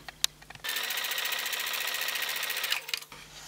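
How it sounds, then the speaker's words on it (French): A sewing machine stitches fabric for a quilt block, a steady fast rhythmic whir that starts abruptly, runs for about two and a half seconds, then stops, close and clear. "À la machine à coudre, vous allez coudre de chaque côté"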